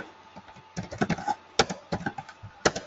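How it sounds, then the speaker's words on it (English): Keys on a computer keyboard are struck in quick irregular bursts, close and clear, with no talking. "let me type it"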